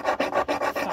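Close, steady rasping of a file on a soldered silverware heart, in five or six even back-and-forth strokes with short pauses between them, no voices.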